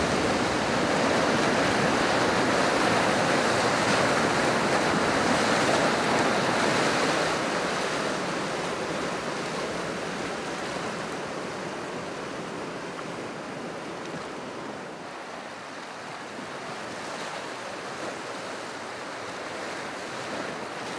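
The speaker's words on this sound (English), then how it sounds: "a rapid called the Toilet Bowl, which is a really unique and neat rapid to go through" Whitewater rapids roar continuously while rafting Browns Canyon, running through the Toilet Bowl rapid, a loud broadband rush of churning water that stays close and steady before easing slightly, with no talk.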